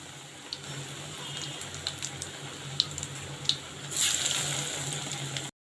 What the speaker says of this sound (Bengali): তো চলো এখন ডিমের চপগুলো ভাজবো।